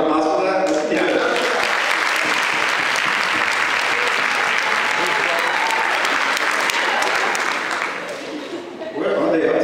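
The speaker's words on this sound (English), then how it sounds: "Can we have a round of applause for that?" A crowd at a school senior show breaks into loud, sustained applause lasting around seven seconds before tapering off, with voices talking just before and after.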